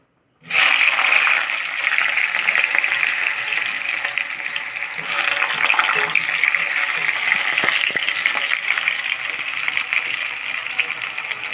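Tomatoes hit hot oil with tempering spices in a home kitchen pan, bursting into a loud, steady sizzle that keeps frying without letup, with occasional stirring scrapes.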